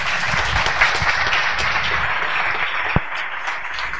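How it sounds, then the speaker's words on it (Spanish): A conference audience in Alicante applauds to welcome a speaker, a dense, even wash of clapping sustained across the whole stretch with one sharper clap near the end. "así que un aplauso"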